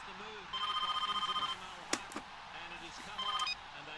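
A landline telephone rings over speakerphone in a comedy film, two bursts of trilling electronic rings separated by a pause, heard faintly and slightly distant beneath light background sounds.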